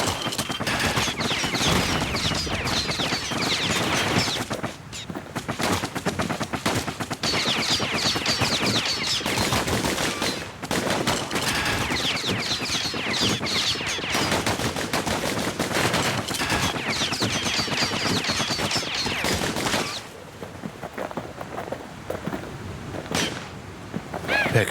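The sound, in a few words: gunfire from the Kid's guns in video game Bastion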